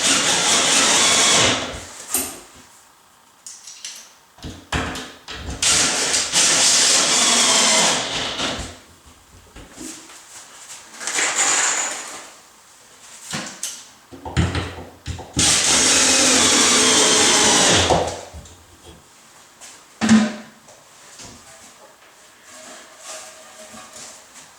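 A power drill drives screws to fasten floating shelf hardware, several loud whirring bursts of a few seconds each, separated by quiet gaps.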